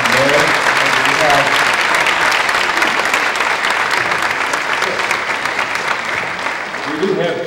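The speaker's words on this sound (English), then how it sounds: "Please join us for a round of applause." Sustained applause from a lecture audience, loud and dense clapping that fills the room evenly throughout, with faint voices briefly surfacing near the start and end.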